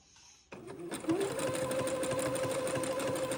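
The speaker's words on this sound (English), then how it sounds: "I've got 4 feet of lace to zigzag onto the Swiss edging" After a short hush, a sewing machine starts up and runs steadily and close, zigzag stitching lace onto Swiss edging with an even rapid whirring chatter.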